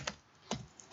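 Three distinct keystrokes tapped on a computer keyboard, close and fairly quiet, evenly spaced with no talking.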